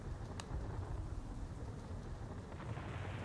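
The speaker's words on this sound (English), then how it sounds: "Storm is a brewing." Thunderstorm in the video game Chulip: steady rain-like rumble with a low roll of thunder throughout, moderately loud and without voices.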